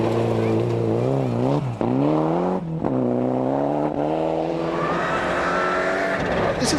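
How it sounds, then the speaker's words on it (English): A Mitsubishi Lancer rally car at a 1997 rally drives hard nearby, its engine revving and shifting through rising gears with brief dips between, loud and continuous. "Steadily on his way, Richie Hallfield in the Mitsubishi Lancer."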